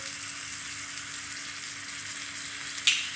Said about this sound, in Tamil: இப்போ இது எல்லாத்தையும் சேர்த்து நல்லா வதக்கி விட்டுக்கலாம்.